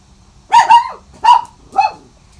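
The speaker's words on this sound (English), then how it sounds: "Oh, good timing, dogs." Dogs bark three times in quick succession, sharp and fairly close, with short pauses between the barks and no other sound besides a quiet background hum.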